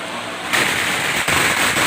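Firecrackers crackle at a temple ceremony for opening the eyes of a Thao Wessuwan statue at Wat Nong Chok, Chakkarat, Nakhon Ratchasima, a dense continuous burst of loud popping that briefly dips before resuming.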